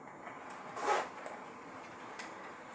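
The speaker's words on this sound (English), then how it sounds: "Let me zip up the jacket so you can see that." A jacket zipper is pulled up in one quick, soft zipping stroke, faint and close, followed by a couple of light clicks in a quiet room.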